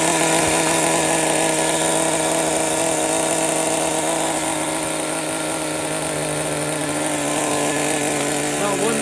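Traxxas T-Maxx nitro RC car engine running at a steady high-pitched buzzing whine, loud and close, continuous throughout without pauses.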